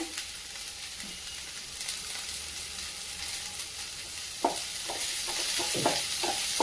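Soya chunks chilli is sautéed in a pan, with a steady close sizzle and a spatula scraping and tapping more often toward the end, without any voices.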